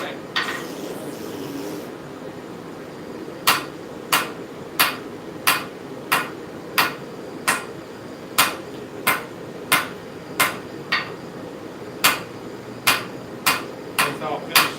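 A blacksmith strikes metal with a hand hammer while forging a puko, ringing blows landing in a steady rhythm of about two per second, sharp and close, after a brief scraping start.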